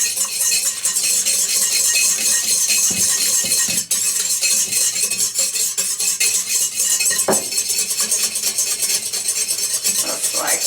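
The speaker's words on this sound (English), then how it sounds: "I'm just going to whisk until it's frothy" A whisk rattles and scrapes rapidly against a bowl, beating an egg white until frothy for Texas glazed pecans. The bright clinking strokes are steady and close, with no talking.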